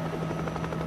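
A news helicopter hovering over crash wreckage off Miami Beach, its rotor beating in a fast, steady thump that stays loud and close.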